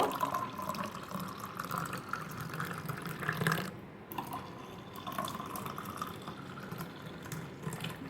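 Cold water poured into yoghurt while making masala chaas, a steady liquid splash and trickle running close by for several seconds with a short break midway, no voices.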